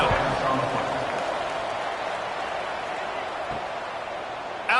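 A stadium crowd cheers in a college football video game, East Carolina Pirates at Temple Owls, as a steady, broad roar that runs the whole way, heard under a commentator's voice.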